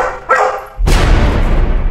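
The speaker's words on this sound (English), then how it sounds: "The dog is barking at something that we can't see." A dog barks loudly and close inside a house, a short bark followed by a longer, harsher burst of barking.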